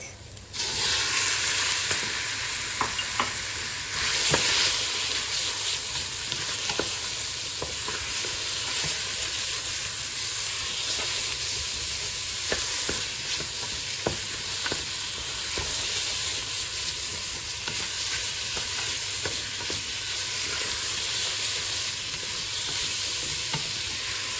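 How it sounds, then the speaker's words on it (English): Meat for Ghormeh Sabzi sizzles steadily in a hot pan while a spoon stirs it, with a continuous loud frying hiss and scattered scraping clicks throughout, close up and with no talking. "So we kept stirring the meat until it changed color"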